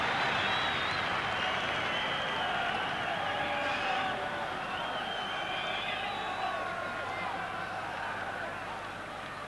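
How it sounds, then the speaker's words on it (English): Crowd buzzing at a Northern Ireland v Austria football match in 1984, a dense, distant roar of voices and scattered whistles and cheers, steady throughout with a commentator talking over it. "The crowd really buzzing."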